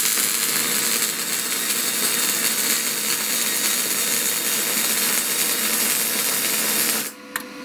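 A Gemeral Mig 200 semi-automatic welder runs at maximum current, giving a steady, loud buzzing crackle for about seven seconds before cutting out abruptly.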